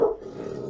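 A puppy gives a short, sharp bark aimed at a neighbor indoors, followed by a low rumbling growl. It is close and moderately loud, with no talking.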